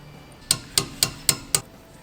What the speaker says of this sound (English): And we'll hammer that down, bend it out